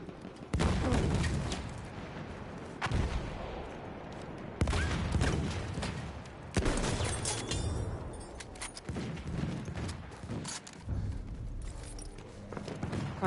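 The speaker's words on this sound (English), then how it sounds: "Oh Jesus Christ, he's shooting me." Battlefield 1 combat gunfire: loud, broadband shots and bursts crack out every couple of seconds over a rumbling battlefield backdrop, close and harsh.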